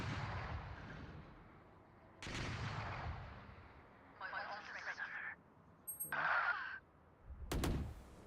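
Shots go off in the tactical shooter Valorant, one of them accidental, with a sharp crack early on and another near the end, separated by talking and game interface sounds.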